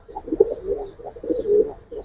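Pigeons, giribaz and coloured breeds kept for sale, coo in soft repeated throaty phrases close by, with no talk over them.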